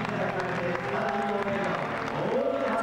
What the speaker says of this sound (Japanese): 満場の拍手で2人を称えます